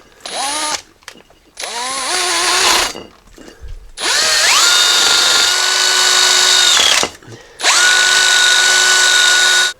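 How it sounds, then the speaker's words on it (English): A power drill with a wire wheel spins up in repeated bursts, whining loudly with a gritty scraping as it cleans metal during a rear brake replacement on a Jeep Grand Cherokee WK2. "So I just got a wire wheel on a drill right here."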